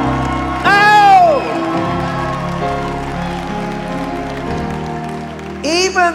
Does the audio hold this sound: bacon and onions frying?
no